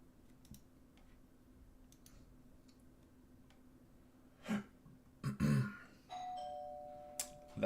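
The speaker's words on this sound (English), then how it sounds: "That's a doorbell." A doorbell chimes indoors as two sustained ringing tones near the end, preceded by a few soft knocks and clunks in an otherwise quiet room.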